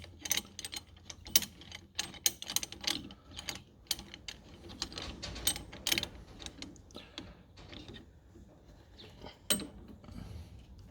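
Socket ratchet clicking in irregular bursts while two people work on a 1944 Ford GPW Jeep, sharp close metallic ticks with pauses, quiet overall and no clear talk.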